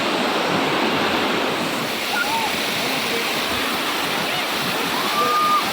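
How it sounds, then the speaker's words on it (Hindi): Manthoka waterfall, 180 feet (55 m) high, in the cold desert near Skardu, roaring as a loud, steady broadband rush of falling water with wind buffeting the microphone, continuous throughout. "इस वाटरफॉल की हाइट 180 फीट यानी 55 मीटर है।"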